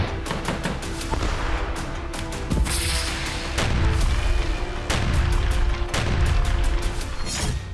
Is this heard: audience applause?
no